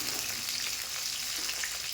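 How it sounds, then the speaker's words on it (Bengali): Chillies fry in hot oil over a medium flame, giving a dense, steady sizzle and crackle that holds even and close throughout without a break. "লঙ্কাগুলো এই কারণে ভেজে নিচ্ছি"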